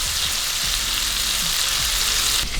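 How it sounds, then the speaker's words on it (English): Butter sizzles steadily in a hot frying pan being heated before walleye fillets go in, a close, continuous crackling hiss with small pops and no talking. "You can already see that pan is starting to sizzle."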